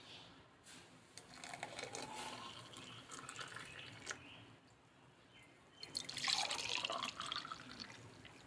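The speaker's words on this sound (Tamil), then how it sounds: "இப்போ நம்ம டம்ளரில் ஊற்றிக்கலாம்" Freshly made sweet lime (mosambi) juice is poured into a tumbler: a quiet, continuous liquid trickle with small splashes that swells into a brighter, fuller stream near the end.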